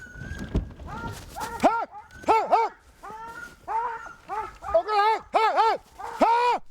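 Sled dogs in harness, hauling a skiff up a final hill, give a run of repeated yelping barks and whines with short gaps between, fairly close, while a person's voice sounds in among them.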